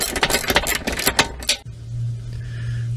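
An 18mm socket and spanner work a bolt on the front suspension lower arm of an Astra G MK4. Rapid metallic clicks and clinks ratchet close for about a second and a half, then give way to a low steady hum.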